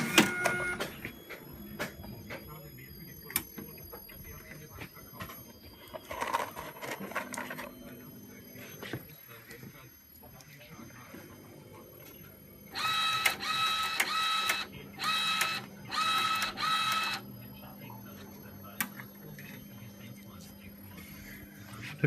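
A LAB400 labelling machine fitted with a Zebra ZE500 printer runs in a workshop. It starts with soft mechanical ticks and hums, then gives several loud, regular printing bursts near the end, while someone talks over it at times.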